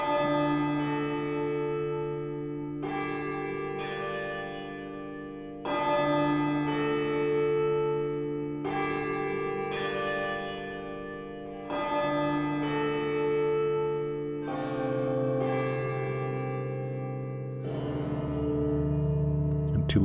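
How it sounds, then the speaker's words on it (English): Synthesized church bells from an Omnisphere patch triggered by guitar, a series of struck tones with long ringing decays, each new strike landing every couple of seconds, loud and close, with no talking. "Let's do maybe some church bells."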